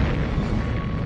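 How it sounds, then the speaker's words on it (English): Deep rumbling explosion sound effect with heavy sustained low boom and noisy roar filling the whole moment, loud and dense without pause, suggesting a massive blast over Siberian forest. "an unexplained explosion flattened miles of Siberian forest"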